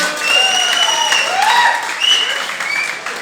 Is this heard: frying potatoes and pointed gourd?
no